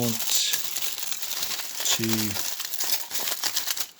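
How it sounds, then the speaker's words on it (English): Tin foil being scrunched and moulded by hand into a small figure, a close, continuous crinkling and crackling, with a brief voice breaking in near the start and middle. "basically scrunching the tin foil and shaping it and moulding it"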